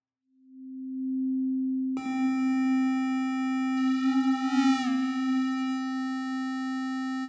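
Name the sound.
synthesizer oscillator tone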